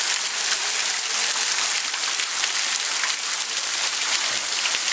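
Heavy rain pours down without letup outside a flooding museum in Concepción, Paraguay, a thick constant patter and hiss of drops hitting surfaces nearby.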